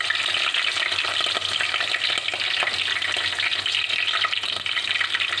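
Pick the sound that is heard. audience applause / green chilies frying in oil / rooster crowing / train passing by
green chilies frying in oil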